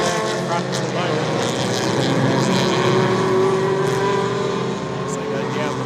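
Sports compact race cars at Winton Motor Raceway roar past in a pack, engines droning loudly and continuously with rising and falling pitch as they brake for a turn. A commentator talks over the engine noise.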